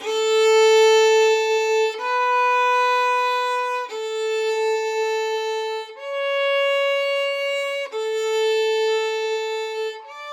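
Bowed violin notes, each held about two seconds, changing pitch one after another over a sustained open-string drone, clear and close with no talking.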